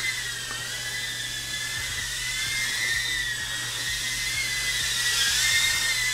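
Racing drone motors, an iRangeX i8X and a Jumper X68T, whine steadily in flight with a high, thin buzz whose pitch wavers slightly as the drone is flown in stabilized mode. There is no talking.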